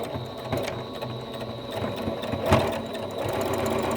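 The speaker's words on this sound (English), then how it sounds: "So I'm just going to stitch right along here to create a little pocket." A sewing machine stitches along fabric to form a small pocket, its steady mechanical whirr and ticking needle running close and continuous for several seconds.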